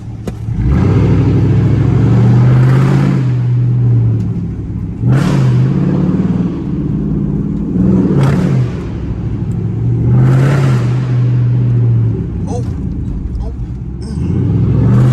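A catless Chrysler 300C exhaust roars loudly in repeated revving bursts that echo off buildings downtown at night, while people talk over it close by.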